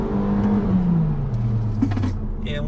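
A Fiat Fastback 2023 Limited Edition by Abarth pulls hard at full throttle, its engine note droning and sliding downward across a gear change, with faint clicks and rattles over the steady interior road noise.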